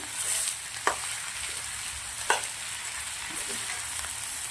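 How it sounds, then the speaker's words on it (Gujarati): Potatoes with spices frying in a pan with a steady hiss, with two distinct scraping knocks of a spoon stirring them, close up and without voices. "હવે બધું જ આપણે સરસ મિક્સ કરી દેવાનું છે મસાલા જોડે."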